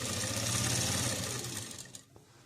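A sewing machine stitches a kurti seam with a steady, close buzzing whir that slows and cuts off near the end.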